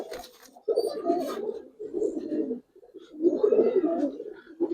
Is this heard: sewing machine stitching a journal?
no